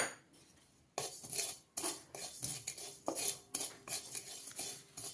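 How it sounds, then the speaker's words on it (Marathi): Metal spoon scrapes and clinks against a kadhai as 50 grams of poppy seeds are dry-roasted and stirred, in steady rhythmic strokes with brief pauses and no talking. "त्याच मी कढईमध्ये 50 ग्राम खसखस घेतलेले आहे, ते आपण भाजून घेऊया"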